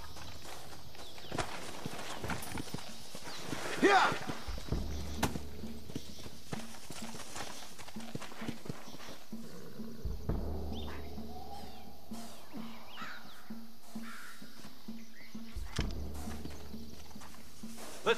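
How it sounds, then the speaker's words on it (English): Horse hooves clip-clop steadily in the video game Red Dead Redemption, a walking rhythm of moderate loudness over the game's ambient sounds, with a brief shout and some speech during it. "Looks like Carlos left us some horses."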